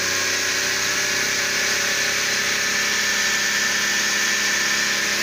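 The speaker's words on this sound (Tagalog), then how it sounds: "So nag-wild yung makina guys." A Daihatsu DA63T Multicab engine runs at high, unsteady idle, a loud continuous mechanical drone with a droning hum, close by and without talk.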